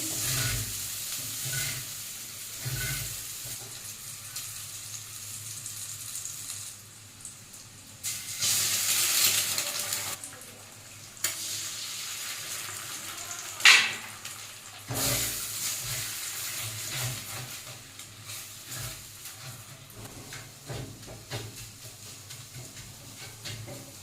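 Capsicum, garlic and green chili sizzle steadily in a pan, with a soft continuous hiss and occasional brief louder surges of stirring, close and without talk.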